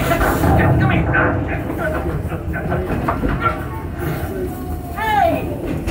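A Disney World park train rolls along its rails from Frontierland toward Fantasyland, a loud continuous rumble and clatter heard from the engine, with voices and a whistle-like squeal mixed in.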